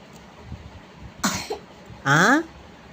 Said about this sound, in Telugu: అన్నప్పుడల్లా దగ్గు వస్తుంది.